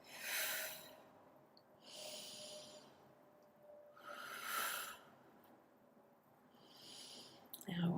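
Slow, calm meditation breathing with four long airy breaths spaced a few seconds apart, close and soft, with a faint low hum beneath and a brief rustle at the end.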